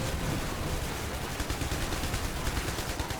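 Rapid automatic gunfire rattles in the IS Defense video game, a dense, steady stream of shots at moderate volume with no voices.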